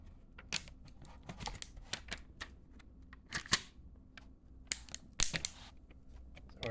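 A sticker is peeled off the screen of an 8-inch widescreen digital photo frame, making irregular crisp tearing crackles and plastic clicks, close and fairly quiet, with no voices.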